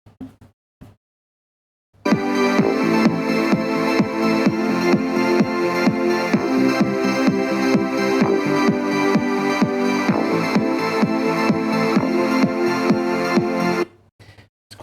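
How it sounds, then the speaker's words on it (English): A Google Home Mini smart speaker used as an office speaker plays music, a full, continuous stream of rhythmic instrumental sound that starts abruptly after a brief quiet pause and runs steadily for over ten seconds before cutting off. "And this is what the office speaker sounds like."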